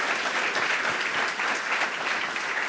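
Dense, steady applause from an audience fills a launch event at HXOUSE, loud and continuous throughout with no pauses.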